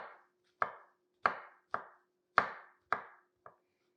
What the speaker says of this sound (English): So we can go ahead and slice them. And then slice them this way.